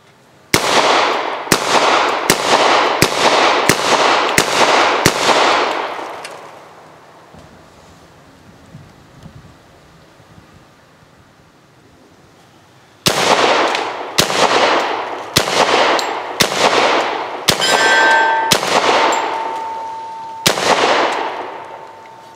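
Flint River Armory CSA-45 .45 ACP piston carbine fired outdoors: two loud, close strings of rapid sharp shots, about six in each, separated by several seconds of quiet, with echoes trailing after each report.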